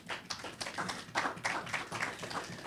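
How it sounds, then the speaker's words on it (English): Scattered applause from a small audience at a signing ceremony for water project loans, a handful of distinct, unsynchronized claps and taps coming in uneven bursts, fairly close. "I think we deserve a round of applause for that"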